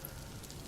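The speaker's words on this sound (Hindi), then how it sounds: "सिर्फ बाहर से बारिश की आवाज आ रही थी।" Soft, steady patter of rain falling outside, a continuous gentle hiss with no voices, fairly quiet and even throughout.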